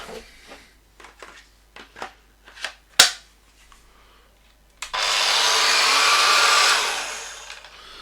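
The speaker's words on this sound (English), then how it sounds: "I'm going to give the angle grinder a little spin up." A few scattered clicks and taps, then an angle grinder whirs up to a loud steady high-pitched whine for about two seconds before winding down.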